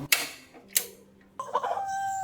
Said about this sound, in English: My father's flock of chickens is in the front yard.